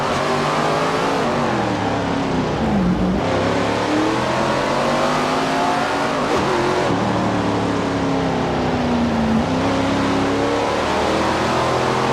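Race cars in SRX: The Game, super late models in a round at Idaho's Mountain Shadows, roar off together at the green flag with a steady, loud pack of engine drone and rising and falling revs throughout.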